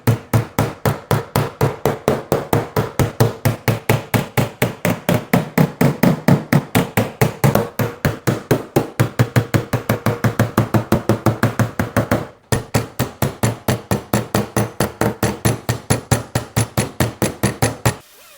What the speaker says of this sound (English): go ahead and grab this hammer